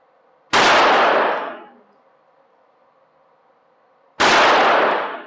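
Two loud, sharp pistol shots ring out at a target a few seconds apart, each followed by a decaying echo that leaves quiet between them.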